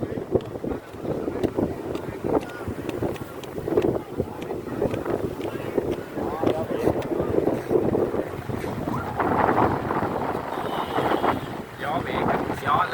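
Gusty night wind off the sea rumbles against the microphone while waves wash in nearby, a steady roar throughout with some voices faintly beneath it.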